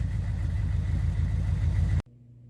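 A Chevy 6.2 diesel engine idles with a steady low, loud rumble, running alone for about two seconds before the sound cuts off abruptly to a faint background.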